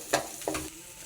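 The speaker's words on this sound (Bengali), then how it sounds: "আলুগুলো একটু খুন্তি দিয়ে ভেঙে নেব।" Two short scraping scuffs of a spatula mashing boiled potatoes in a pan, close and brief, with a quiet sizzle underneath.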